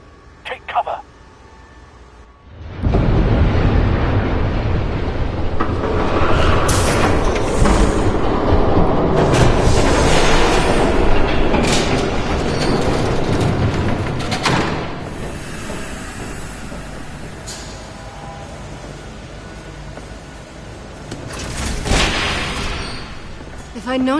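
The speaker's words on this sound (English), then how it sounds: "There's a train coming." A train approaches in the Batman Telltale video game, a loud, sustained rumble rising in and holding steady for most of the stretch, with sharper clanks and bursts cutting through near the end and voices talking over it.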